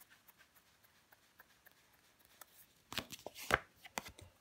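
Tarot cards handled and laid down during a reading, soft faint shuffling and slapping through most of the clip, then a cluster of sharper card snaps and flicks near the end.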